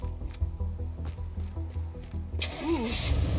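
In the game Teardown, a half-destroyed truck's engine turns over through a rhythmic series of cranking pulses, then catches and settles into a running hum. A brighter rising whine follows at the end.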